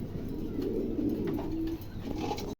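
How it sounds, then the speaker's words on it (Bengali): A pair of Laddu pigeons cooing close by, a continuous low throaty coo that ends abruptly. "দেখেন চমৎকার এক জোড়া কবুতর, 5-6 কিলো যাচ্ছে"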